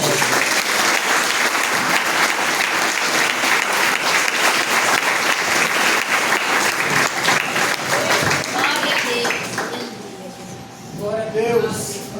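A church congregation gives a long, dense round of applause, a steady wash of many hands clapping that holds strong for about nine seconds before fading, while voices begin to speak underneath at the end.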